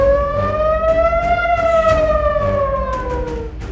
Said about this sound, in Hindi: क्या तेहरान में युद्ध का सायरन बजने वाला है?